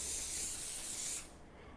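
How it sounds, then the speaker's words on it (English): Cooking spray from an aerosol can is released in one steady, close hiss lasting just over a second, then cuts off into quiet kitchen room tone. "Cooking spray."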